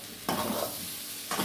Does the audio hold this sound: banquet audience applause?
no